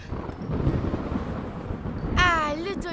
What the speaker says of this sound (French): Ah, le tonnerre.